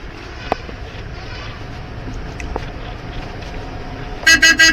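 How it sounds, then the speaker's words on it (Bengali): Inside a car moving slowly through crowded streets, a low engine rumble runs steadily, then the car's horn sounds three or four short, loud, close toots in quick succession at the end. "হর্ন দিয়ে দিবেন যারা নতুন গাড়ি চালানো শিখছেন"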